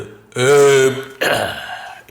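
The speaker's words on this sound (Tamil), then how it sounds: "ஏப்பம் விட்டுவிட்டு" Man giving a loud, drawn-out burp after a meal, close and voiced, followed by a second rougher burst of voice.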